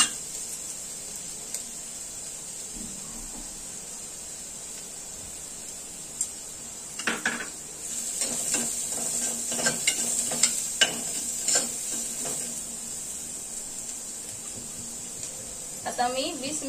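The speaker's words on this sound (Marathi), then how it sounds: "कांदा आपल्याला लाल होईपर्यंत परतून घ्यायचा आहे।" Onion sautéing in a pan with turmeric added is stirred at close range, a soft steady sizzle broken by bursts of scraping stirs in the middle stretch, with quieter frying before and after.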